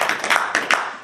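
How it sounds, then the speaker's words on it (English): Audience at a live podcast taping at a fan convention clapping in a short burst of quick, close, uneven claps lasting about a second. "Captain 11, clap."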